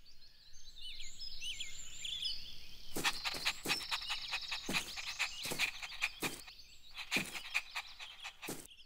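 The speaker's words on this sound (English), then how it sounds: "The common tree frog." A common tree frog croaks in a rapid series of sharp, loud calls, several in quick bursts with short gaps, over a faint background of high chirps, with no talking.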